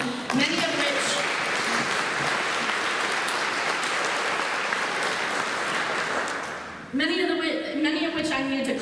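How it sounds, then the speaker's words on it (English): A school audience at a PLTW lab coat ceremony applauds its upperclassmen presenters, dense steady clapping filling about seven seconds before a voice resumes speaking. "If we could give a round of applause for our upperclassmen for doing amazing presentations"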